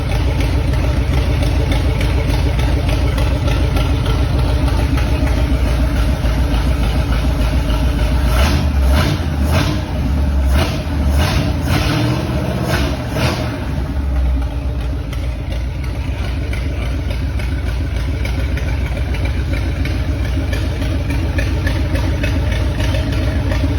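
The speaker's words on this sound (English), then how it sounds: "It uses a 1948 flathead engine that has recently received new head" A 1935 Ford pickup hot rod with a 1948 flathead engine idles close by in a steady, rumbling loop, with a short stretch of sharp throttle blips midway.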